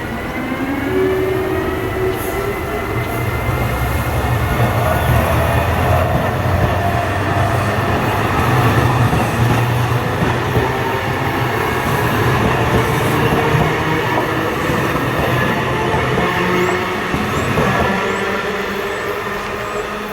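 An Amtrak train hauled by a Siemens ACS-64 electric locomotive passes close by with a loud, steady roar of rolling wheels and rail clatter that lasts the whole time, with no voices.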